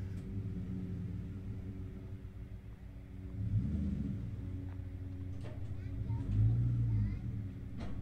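A rough-running 2001 Ford Mustang Cobra rolls off a trailer, its engine giving a low, uneven rumble with a couple of swells in revs, fairly distant and quiet, with faint clicks and handling noises.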